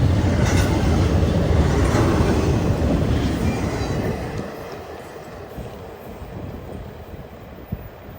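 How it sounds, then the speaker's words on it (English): A southbound intermodal freight train rolls past at a rail spot in Greenville, South Carolina, a loud, steady rumble of wagons and wheel clatter that gradually thins and fades toward the end, with a brief click near the close. "This southbound intermodal came out of nowhere."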